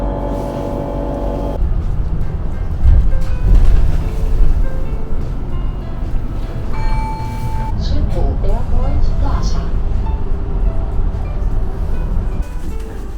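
Inside a city bus heading to Schiphol Airport in Amsterdam, a steady engine rumble and road noise runs throughout with a brief tonal beep midway, while people talk over it.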